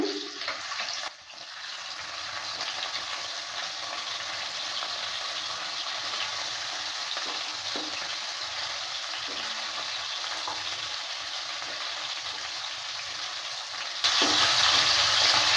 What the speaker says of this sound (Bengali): মাছগুলোকে উল্টে পাল্টে ভালো করে ভেজে নেব